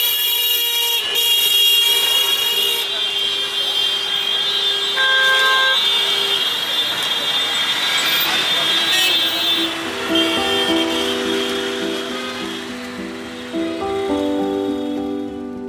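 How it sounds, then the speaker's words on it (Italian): Car horns honk again and again in dense Delhi street traffic, overlapping toots and longer blasts of varied pitch over a constant traffic roar. "Cioè parlano con il clacson."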